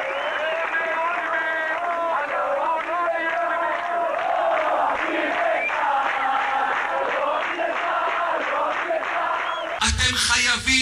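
A crowd at a march sings "We love the IDF" together, a loud, sustained mass of voices chanting in unison with steady energy throughout, before a brief burst of harsher noise at the very end.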